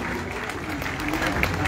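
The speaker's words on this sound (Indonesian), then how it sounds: "Boleh beri tepuk tangan juga untuk Ibu Kajari" Applause from a crowd at a Christmas celebration in Batam, Kepri, greeting a guest of honour, a steady moderate clatter of hands with some voices mixed in.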